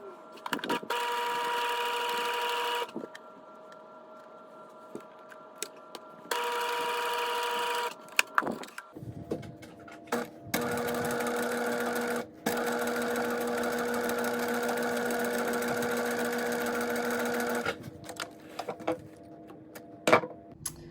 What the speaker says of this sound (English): I'm just going to do those stitches now